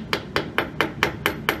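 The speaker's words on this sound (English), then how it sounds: "This is an upholstery hammer, which isn't really the best thing." An upholstery hammer tapping a veneer nail into a marquetry panel, seven sharp, evenly spaced strikes in quick succession, close and clear with no talk.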